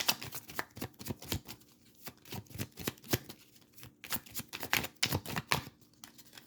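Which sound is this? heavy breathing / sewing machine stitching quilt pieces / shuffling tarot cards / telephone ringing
shuffling tarot cards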